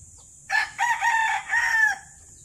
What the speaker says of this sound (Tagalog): Ito yung isang manok na hindi ito amin.